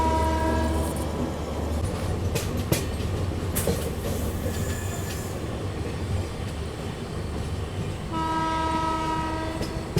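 A Jaipur–Mumbai nonstop passenger train rumbles steadily around a very sharp curve at night, wheels squealing in high sustained tones at the start and end over the constant rolling roar, with a few clanks in between.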